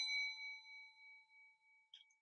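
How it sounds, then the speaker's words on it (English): A single bright notification bell ding rings out clearly and decays slowly over about two seconds, followed by a faint short chime at the end. "hit that notification bell"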